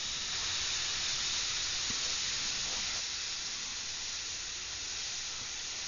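Steady airbrush hiss sprays flesh-tone paint onto a portrait-style piece, a continuous soft, even spray that holds at the same level throughout with no voices.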